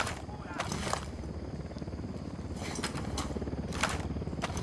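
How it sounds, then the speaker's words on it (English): A video game helicopter drones with a steady rotor chop, mixed with gunfire-like taps and other game sounds. A player talks over it. "Got a chopper, I'm gonna try to take it out."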